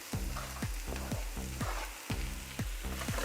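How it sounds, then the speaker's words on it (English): Onions, garlic and chili frying in a pan as mushrooms are added, giving a steady close sizzle broken by regular scraping stir strokes, with no talking. "So my onions, garlic and chili are slowly cooking now. I'm going to add the mushrooms in."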